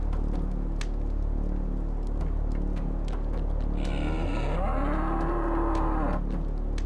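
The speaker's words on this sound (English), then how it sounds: "A cow?" In the video game Serious Sam HD, a cow lets out one long, loud moo rising then falling in pitch, set over steady game background noise and intermittent clicks.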